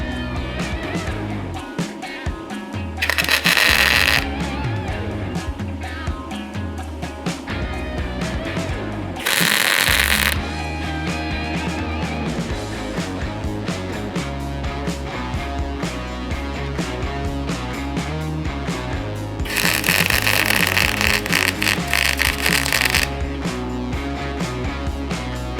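A Yes Welder 205 DS welding an unclean bolt to a steel plate, a steady loud crackling buzz of arc welding running continuously, with three bursts of harsher hissing spatter.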